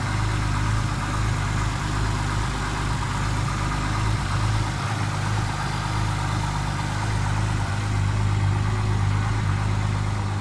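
A car engine on new Tuff Mounts engine mounts idles steadily after sitting about four weeks, a low continuous rumble with a faint vibrating hum, holding even throughout with no voices.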